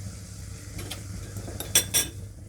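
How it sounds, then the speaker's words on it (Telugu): Semolina is stirred into hot sugar syrup in a pot, giving a soft scraping stir under low background hum, then two sharp metallic clinks of a spoon against the pan near the end. "ఇప్పుడు రవ్వ వేసుకుందాం ఇందులో."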